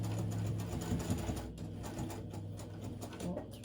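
A sewing machine stitches a cross body bag in short, rapid mechanical bursts of clattering needle rhythm, close by, with a voice talking faintly in the background.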